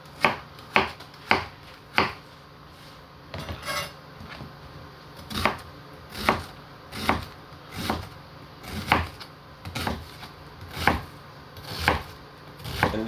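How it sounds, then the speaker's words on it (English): A knife chops an onion on a cutting board, with about twenty crisp, evenly spaced strikes close by. The rhythm is steady with a short pause near the start, and no one talks. "already washed my onion. I'm gonna go ahead cut it"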